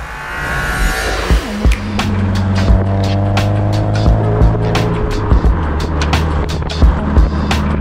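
A Mercedes 190E 2.5-16V Cosworth idles steadily up close, then pulls out and drives off. Its low engine drone continues throughout, with repeated sharp knocks and clatters over it.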